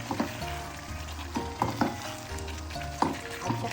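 Pork belly (liempo) sizzles and spatters steadily in a hot pan, with clinks and scrapes of stirring breaking through at intervals.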